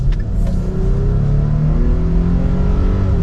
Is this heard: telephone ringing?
no